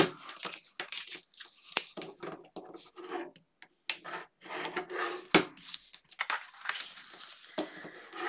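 Paper pieces for a photo wallet being folded and burnished up close, with soft rubbing, crinkling and scraping strokes that come in short bursts separated by quiet gaps.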